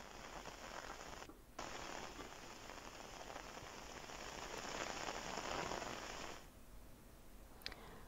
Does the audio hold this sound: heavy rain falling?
yes